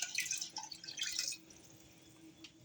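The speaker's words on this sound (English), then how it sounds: "We're going to add 1 quart of water." A quart of water pours into a pot of dragon's breath chili with tomatoes, a bright splashing burst for just over a second that trails off into quiet drips.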